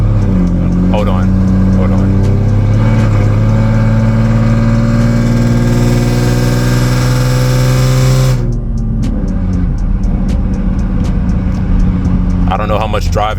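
A 2008 Lexus IS250 carrying a list of modifications revs up, its engine pitch climbing loud and near before dropping back to idle, while someone talks over it.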